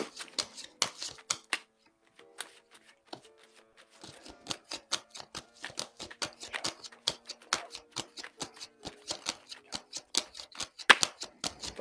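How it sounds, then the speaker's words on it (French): Tarot cards being cut and drawn from the deck, a long run of crisp, rapid card snaps and riffles up close, with a brief quieter pause early on before the dense flicking resumes. "on va faire la coupe et le tirage"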